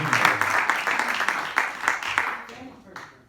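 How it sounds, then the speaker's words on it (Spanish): Applause from a church congregation welcoming a woman during an evening service, broad steady clapping that swells and fades over a few seconds with voices mixed in. "vamos a darle un aplauso"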